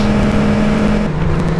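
A loud, steady engine drone from the racing game TORCS drops in pitch partway through as a racing car shifts down a gear.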